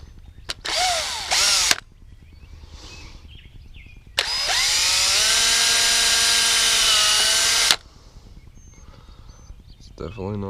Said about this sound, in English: I'm going to drill me a pilot hole in this first.